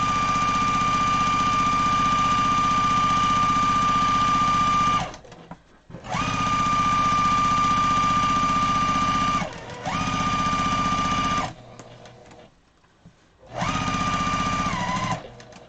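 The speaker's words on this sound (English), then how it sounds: "And now you want to sew again. I got these two pieces to sew." A sewing machine stitching two fabric pillow pieces together: loud, close mechanical whirring in several long runs, with brief stops and a few quiet gaps between bursts.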